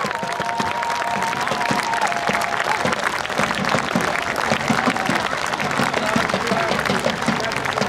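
Audience applause after a historical military demonstration at a fortress day event, a dense steady crowd clapping with some cheering throughout, a faint whistle-like tone early on.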